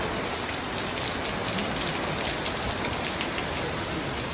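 Very heavy rain pours down steadily, a dense, loud hiss of drops drumming on nearby surfaces that continues without a break or any voices.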